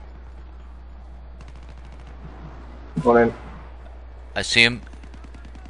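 Gunfire from the video game Battlefield 3 comes in two short, loud bursts of automatic shots over steady low background noise, and a voice speaks briefly.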